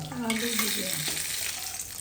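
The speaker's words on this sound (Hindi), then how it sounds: "दालि छौंके के जोगाड़" Loud sizzling and crackling of lentils being tempered in hot oil, with bay leaf, a steady bright hiss close by with a few clinks.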